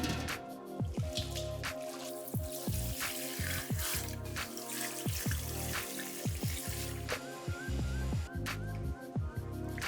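Cold water pours into a large pot holding lamb ribs, a close, steady splashing and dripping with irregular plinks and gurgles over ten seconds, no talking.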